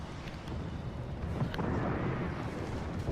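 Warship guns firing on an enemy ship in World of Warships Legends, with heavy booming reports rolling into a dense continuous rumble and a few sharper cracks near the start.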